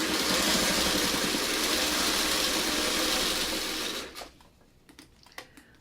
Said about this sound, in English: then we're going to sew this on